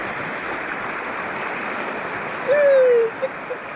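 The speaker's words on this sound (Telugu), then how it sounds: "మా ఆదివాసీ విలేజ్ లేని విలేజ్లు చూడండి వాగు ఎంత లాబోతుందో" A rushing village stream in tribal (Adivasi) country gives a steady, dense roar of flowing water from start to finish. Near the end a brief, thin whine rises over it.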